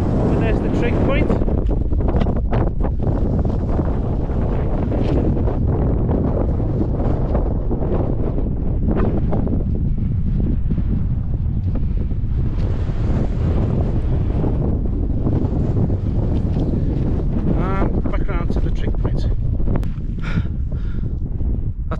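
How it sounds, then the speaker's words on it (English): Cold, strong wind roars across the Red Screes mountain summit in a continuous loud buffeting rush against the microphone, rising and falling in gusts. A voice talks now and then beneath the wind. "Very cold and windy though."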